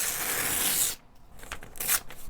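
Newspaper being torn into strips for paper mache: a long, loud close rip, then quieter rustling, a second sharp tear and softer crinkling of the paper.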